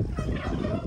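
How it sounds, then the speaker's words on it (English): Roosters and other fowl calling in a short, busy burst, close by with a dense, noisy layer of squawks. "I got more roosters than I can deal with."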